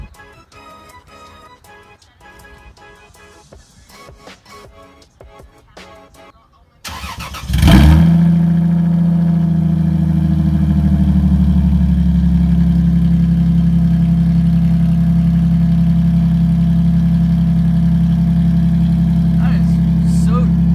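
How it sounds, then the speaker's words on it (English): Cold start of a car engine running with no muffler on a custom fabricated exhaust after sitting two weeks: quiet background talk, then a sudden loud crank and catch into a deep, steady, throaty idle that holds close and loud to the end. "So I kind of want to get a cold start of no muffler."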